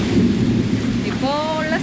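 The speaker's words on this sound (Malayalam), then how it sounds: "അയ്യോയ്യോ, നല്ല മഴയാണ്." Heavy rain falls with thunder in the early evening, a dense, steady roar of downpour with low rumbling throughout and a brief high tonal sound near the end.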